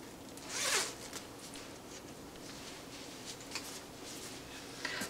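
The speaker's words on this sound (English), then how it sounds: "I zip it up." A single quick hoodie zipper pull rasps up close, followed by quiet rustling of fabric.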